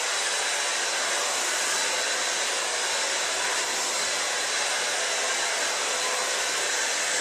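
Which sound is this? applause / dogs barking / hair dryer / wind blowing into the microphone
hair dryer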